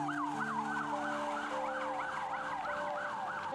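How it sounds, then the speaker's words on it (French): An ambulance siren from a private polyclinic wails through the streets of Abidjan, a loud, rapid rising-and-falling electronic yelp over steady traffic hum. "Dans les rues, une ambulance de la polyclinique de l'Indigné"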